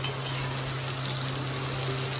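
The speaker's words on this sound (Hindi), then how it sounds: "भिंडियाँ जो है वो फ्राई हो रही हैं" Okra (bhindi) frying in a small amount of oil in a pan, a steady, even sizzle with light crackling, continuous and close.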